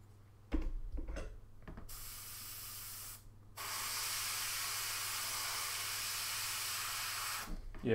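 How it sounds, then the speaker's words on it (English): An aerosol can sprays yellow paint onto green miniature jungle terrain in short bursts, then one long steady hiss held for several seconds, close and loud against a quiet background hum. "yellow just doesn't want to spray on green like"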